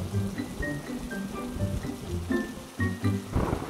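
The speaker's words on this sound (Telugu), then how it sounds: "ఒకరోజు నల్ల మేఘాలతో పెద్ద గాలితో వర్షం మొదలయ్యింది." Heavy rain driven by strong wind during Cyclone Nivar, with lightning, a steady dense downpour filling the whole stretch with shifting gusts, beneath faint tonal music.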